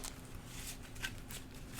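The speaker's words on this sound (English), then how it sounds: "lower them just while I shuffle, because sometimes it hits here" Tarot cards being shuffled by hand close up, a soft continuous riffle of rapid card flicks at low volume with no voices.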